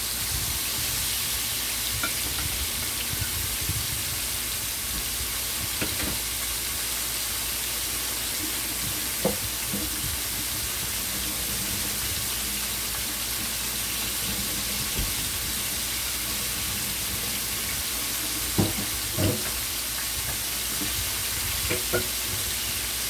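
Steady, quiet sizzling and crackling of fish frying in hot oil, with occasional louder pops and soft clinks.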